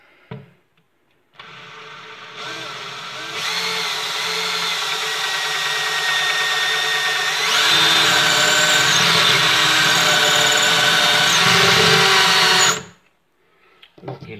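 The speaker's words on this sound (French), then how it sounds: "je prends la perceuse" A power drill boring holes while a wardrobe is built: a loud, close, steady motor whine runs for about eleven seconds, rising in speed partway through, then stops abruptly.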